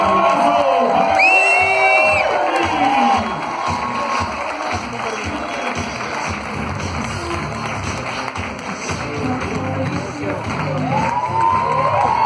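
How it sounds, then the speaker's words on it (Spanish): A crowd cheers, whoops and claps in a farewell send-off for founder Bill Farley, a dense, loud wash of applause with shouts rising over it and a few voices talking through the noise. "Un aplauso para la despedida explosivo y fundador Bill Farley."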